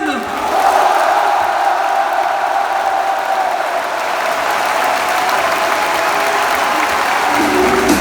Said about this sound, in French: un tonnerre d'applaudissements pour Rafi et Gwen